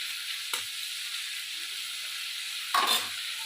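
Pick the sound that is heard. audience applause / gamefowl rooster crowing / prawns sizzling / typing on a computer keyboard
prawns sizzling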